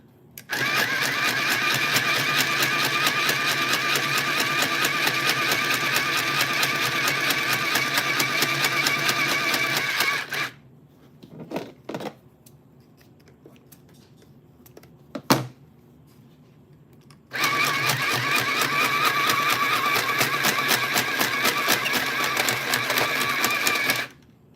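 A sewing machine stitching thread, a loud, steady, fast mechanical whir that runs continuously, stops for a few seconds of small clicks and knocks, then starts up again.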